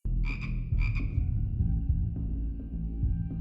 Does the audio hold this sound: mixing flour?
no